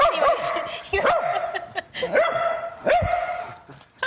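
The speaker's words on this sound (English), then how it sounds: "he's barking because he can see himself, and sometimes it's frightening" Dog barking at its own reflection on a television during a live broadcast, giving several sharp bark-whine yelps roughly once a second, close and loud, with a voice speaking over them.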